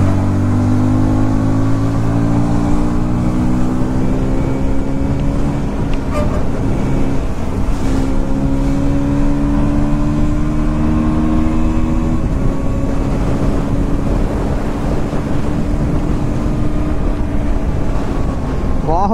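A KTM Duke 160 motorcycle engine drones steadily during a ride, rising and falling through gears with a constant hum, mixed with wind rush and road noise throughout.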